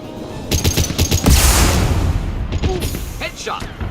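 Rapid gunfire bursts and a sharp shot from the video game Mass Effect 2, loud and dense over about four seconds, with voices talking through the fighting.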